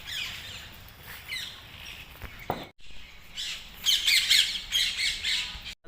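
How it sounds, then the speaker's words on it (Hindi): Parrots at the Lucknow Residency ruins, a noisy mix of harsh, close squawks and chirps over outdoor background noise, with a loud burst of calls toward the end. "यहाँ तोते बहुत हैं भाई, बहुत सारे तोते मैंने देखे हैं"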